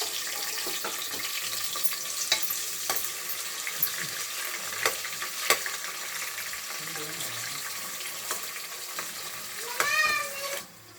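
Onions fry for biryani in a pan with a steady, dense sizzle, broken by occasional stirring clinks and taps and ending in a short rising squeak.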